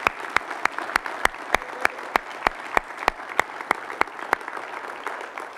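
Applause for a high-school wrestling dream team at a winter sports awards event, heard as a steady run of sharp, evenly spaced claps, close and distinct, like one or a few people clapping in rhythm.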